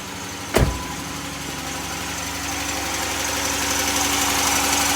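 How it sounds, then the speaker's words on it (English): A 2011 Dodge Charger 3.6 engine idles steadily with a continuous whining, rattly belt noise over it after a coolant failure, following a brief thump near the start. "that's the noise from the belt because the coolant got failed"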